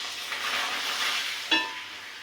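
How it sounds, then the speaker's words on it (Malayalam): Papadam frying in hot oil, a steady broad sizzle with a brief louder crackle as a piece goes in, close and alone. "അപ്പോൾ പപ്പടം ഞാനൊന്ന് വറക്കട്ടെ"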